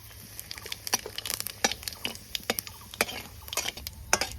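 Whole cumin seeds and dried red chilies crackle and sizzle in hot oil as a tempering, with sharp irregular pops over a soft steady hiss, fairly quiet and close, no voices.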